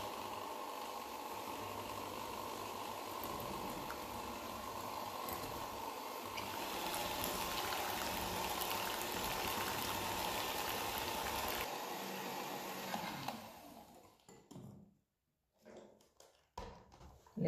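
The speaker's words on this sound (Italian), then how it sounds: "e lavoriamo col frullatore per 3-4 minuti." A steady mechanical whirring drone of an electric mixer beating eggs and sugar runs continuously for several seconds, then cuts off abruptly, leaving a few faint clatters and bumps.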